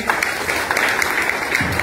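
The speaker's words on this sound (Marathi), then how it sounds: "आपण पुन्हा एकदा टाळ्या वाजवायचे" Applause from the audience at a state-level award ceremony, a short burst of continuous, fairly loud clapping from a crowd with no voices over it.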